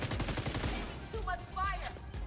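Rapid bursts of gunfire in the shooter game The Division 2, a dense volley of shots crackling over game noise with a voice speaking in the background.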